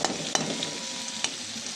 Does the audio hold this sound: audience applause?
no